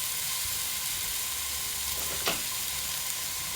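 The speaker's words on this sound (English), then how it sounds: "in a hot pan, I've got 2 tablespoons of sunflower oil. And then goes in roughly chopped 2 onions" Roughly chopped onions frying in a hot pan of sunflower oil, a steady close sizzle with a brief clatter of stirring partway through, no voices.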